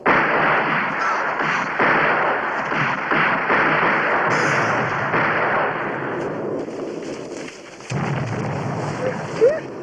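Cannon fire in a staged Civil War battle: heavy booming artillery volleys roll continuously under battlefield din, with a fresh loud blast near the end.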